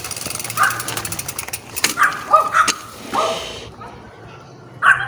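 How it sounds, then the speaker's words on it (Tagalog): Dogs bark outdoors in a few scattered, moderately close yelps and woofs over a background of ambient noise, with a pause near the end before one more bark. "Kaulan yung mga aso."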